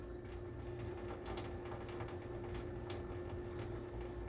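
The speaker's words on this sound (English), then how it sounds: "you pour some of the water out of there without spilling the" Water poured out of a pot of cooking noodles, a steady close trickle and splash over a constant low hum, continuous throughout with no talk.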